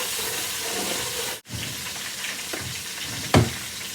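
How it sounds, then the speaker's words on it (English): Chopped onion hits hot oil in a pot with a soft steady sizzle, a brief dropout midway and a sharp clatter near the end, no talking. "I'll put a little bit of this onion into the oil."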